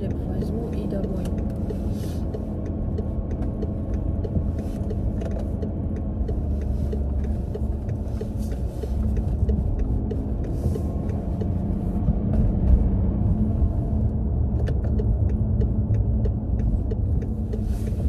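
A car travels along a road on a December errand to buy bread, a steady engine and tyre rumble filling the whole stretch while someone talks over it.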